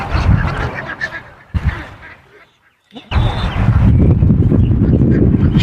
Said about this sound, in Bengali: শয়ে শয়ে হাঁস, কিন্তু কত সুন্দর লাগে দেখেন